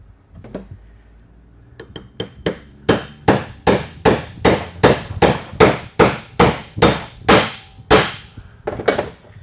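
A steel bushing driver is hammered to seat a dimpled bushing in a 6L90E automatic transmission, giving about seventeen loud, sharp metallic blows in a steady, quickening rhythm after a few lighter taps.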